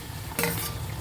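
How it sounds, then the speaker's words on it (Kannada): Chopped tomatoes drop into a pan of onions fried golden brown for chicken biryani, setting off a short, loud burst of sizzling that settles back into a low hiss. "ಇವಾಗ ಟೊಮೊಟೊ ಹಾಕ್ತಾಯಿದ್ದೀನಿ."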